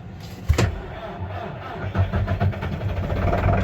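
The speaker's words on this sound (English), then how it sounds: "the way this tractor's starting, I had this tractor plugged in, it didn't start very well" A farm tractor cranks and struggles to start in cold weather after being plugged in, sputtering unevenly with rough, uneven firing before settling into a ragged idle close by.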